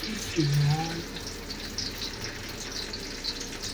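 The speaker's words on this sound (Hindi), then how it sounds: "इसमें हमने घी डाल दिया तकरीबन 4 बड़े स्कूप। अब हम इसमें प्याज डालेंगे।" Chopped onions drop into about four large scoops of hot ghee for a vegetable pulao, setting off a steady soft sizzle and hiss that carries through the whole stretch, with a brief clatter near the start.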